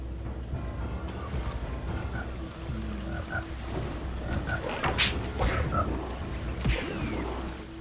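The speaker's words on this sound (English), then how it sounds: "I really like when it's raining and you can see the drops hit the screen." Steady rainfall in the Jak & Daxter: The Precursor Legacy game world, a constant wash of rain under a layer of croaking frogs and scattered splashy in-game effects.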